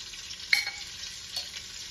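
Spices stirred into a frying head curry in a pan, with a soft, steady sizzle, a sharp metallic clink from the spoon, and a second fainter scrape near the end.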